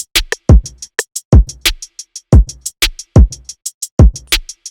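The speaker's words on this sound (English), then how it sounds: "I layered this drum pattern with some of my own programmed trap drum sounds that sound like this." Programmed trap drums with punchy booming kicks and snappy hits under rapid crisp hi-hat ticks, looping in a tight electronic pattern at close, loud level.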